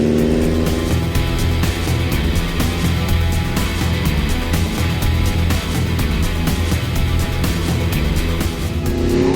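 A Sokol PRO ATV quad bike running at full throttle through snow, its engine a loud continuous drone held close and steady throughout.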